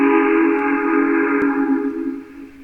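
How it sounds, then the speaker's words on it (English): A steam locomotive whistle blows one long, steady chord, loud and close, then begins to fade toward the end. "set off an old steam whistle"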